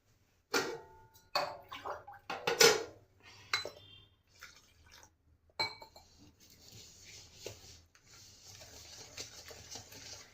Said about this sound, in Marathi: जेवढं पाणी लागेल तेवढं आवश्यकतेनुसार पाणी घेते.